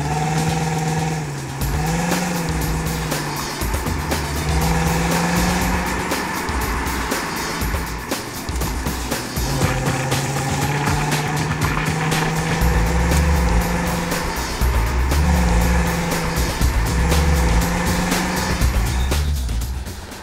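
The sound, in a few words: Volvo V70 car engine running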